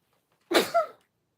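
One quick, sharp sneeze close by, a sudden burst that fades within half a second, with silence before and after.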